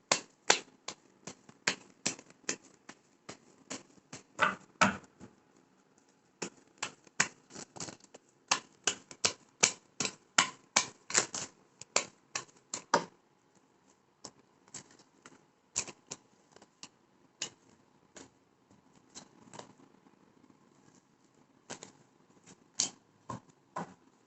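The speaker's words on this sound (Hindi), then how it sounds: "पहले मैं कार्ड शफल कर लेती हूँ।" Tarot cards being shuffled make quick, crisp flicks and slaps in dense irregular bursts that thin out toward the end, close and fairly quiet with no talk.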